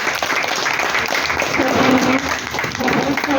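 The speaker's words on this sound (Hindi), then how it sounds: "एक बार जोरदार तालियां मिस्टर अरुण चौहान जी के लिए" A crowd at a CSC business plan show applauds for a speaker, a brief burst of steady clapping with some voices mixed in.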